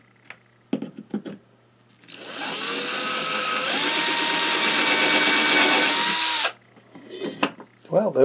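A power drill bores through a hole guided by a Swan-brand saddle layout square, running steadily for about four seconds with a pitch dip midway, framed by brief handling knocks and a voice speaking before and after.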